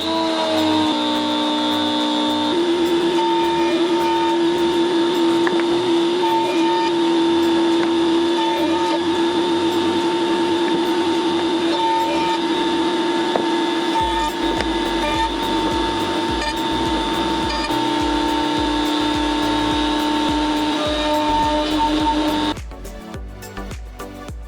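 A power tool bevels the edges of a wooden balancing wine holder, running loud and steady with a constant high whine for most of the stretch before the pitch drops and it winds down near the end.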